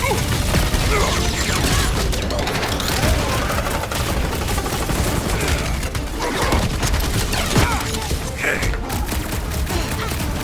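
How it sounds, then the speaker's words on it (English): Dense, continuous gunfire and blasts from a rooftop firefight in the Guardians of the Galaxy video game, loud and close throughout with crashing impacts layered in. "Running and gunning on rooftops!"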